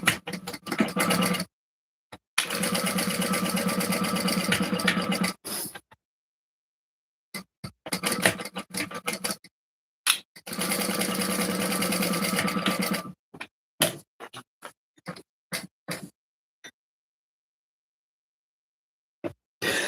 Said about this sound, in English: I'm just going to flip these and top stitch across that folded line